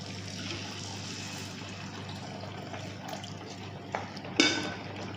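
Water pours into a cooking pan of raw plantain curry with a steady, close, splashy rush, ending with a brief clink of the vessel.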